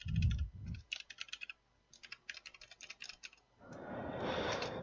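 Fingers typing code on a computer keyboard, quick bursts of crisp key clicks separated by brief pauses, close and clear with no talk, ending in a burst of broader noise.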